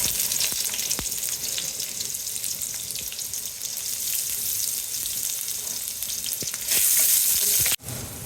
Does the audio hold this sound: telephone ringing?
no